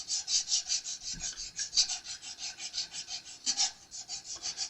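Frets on an Epiphone Flying V guitar being polished, a close, steady series of rhythmic rubbing strokes back and forth, each a bright, raspy swish, with no voices.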